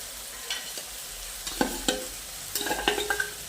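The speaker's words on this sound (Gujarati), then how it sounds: "ટામેટાની સાથે જ લીલી ડુંગળી શેકાવા મૂકી દઈશું" Tomatoes and green onions roasting in a pan for an eggplant bharta, with a low sizzle under scattered stirring and utensil scrapes that come in bursts, clustering toward the end.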